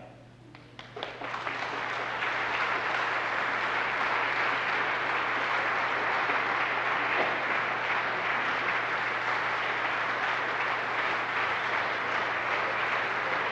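Applause from the audience at a 50th anniversary concert in a hall swells within the first two seconds into sustained, dense clapping that holds steady and fairly loud for over ten seconds, with no talking over it.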